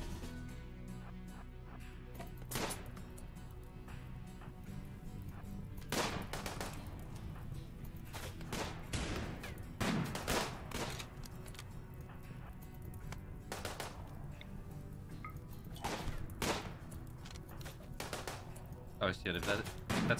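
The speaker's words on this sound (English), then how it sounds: "They're shooting at Frank." Gunfire in the video game Rimworld, repeated sharp shots in irregular bursts with some rapid volleys, heard under people talking.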